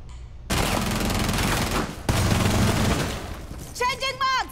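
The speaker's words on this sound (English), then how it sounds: "They're trying to wall bang me." Bursts of gunfire shooting through walls in Rainbow Six Siege during a Tower hostage team deathmatch, loud and sustained across the clip with a short break, ending in choppy in-game voice or radio sounds.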